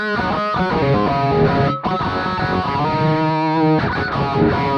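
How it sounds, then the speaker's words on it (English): An electric guitar plays a distorted riff through a wah-wah pedal, its sweeping, vocal-like tone shifting across dense chords, loud and continuous with one short break. "But when I engage the wah-wah pedal"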